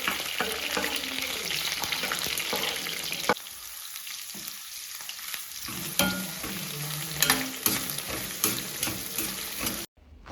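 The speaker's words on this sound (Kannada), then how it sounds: "ನಂತರ ಅದಕ್ಕೊಂದು ಸ್ವಲ್ಪ ಸಾಸಿವೆ ಹಾಕ್ಕೊಂಡು ಕಟ್ ಮಾಡಿಟ್ಟಿರ್ತಕ್ಕಂಥ ಈರುಳ್ಳಿ, ಹಸಿಮೆಣಸಿನ್ಕಾಯಿ ಮತ್ತು ಕರಿಬೇವಿನ ಸೊಪ್ಪನ್ನು ಹಾಕ್ಕೊಳ್ತೀನಿ." Mustard seeds, chopped onion, green chili and curry leaves frying in hot oil for pumpkin palya: a continuous close sizzle with spatula stirring and scraping, which cuts off sharply just before the end.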